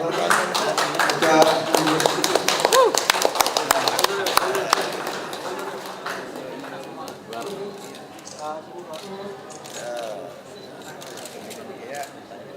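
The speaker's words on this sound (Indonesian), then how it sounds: "Mohon Tepuk tangan." An audience at a mosque development competition ceremony claps in a brief burst of sharp, scattered hand claps that fades after a few seconds, leaving people talking and moving about in the room.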